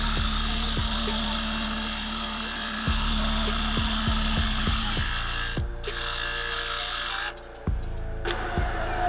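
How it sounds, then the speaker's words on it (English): A spindle gouge shapes cracked redgum spinning on a wood lathe, giving a steady whirring hum broken by repeated short scraping cuts, close and moderately loud, with a brief dip near the end. "So now I'm just coming along using the nose of the spindle gouge, trying to formalize that bend."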